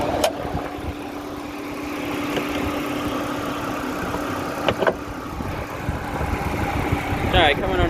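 A Lincoln MKX's 3.5 liter Duratec V6 idles with the hood open, a steady, close engine hum with a few clicks and knocks, while someone talks over it.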